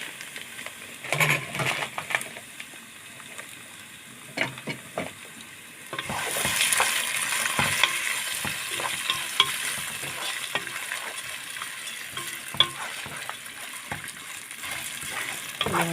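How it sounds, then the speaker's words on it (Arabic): Vermicelli drops into onion-flavoured oil in a pot for Egyptian koshari and starts frying: a soft sizzle builds into a steady crackling hiss, broken by scattered stirring clicks. "الزيت اهو بتاع البصل، هننزل بالشعرية، حبة شعرية اهي عليه."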